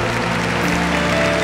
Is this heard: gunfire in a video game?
no